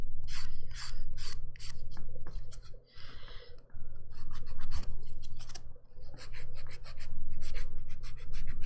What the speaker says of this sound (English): I've pretty much just gotten in the habit of hand filing